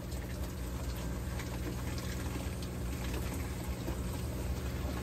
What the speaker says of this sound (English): So that sound is the water pump once it's actually pumping water.